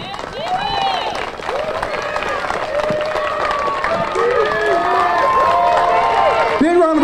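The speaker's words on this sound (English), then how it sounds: "Big round of applause for Jamie Haslam, please." A crowd at a Little League opening day applauds and cheers, with clapping and whoops, steady and fairly loud through the whole stretch while voices call out over it.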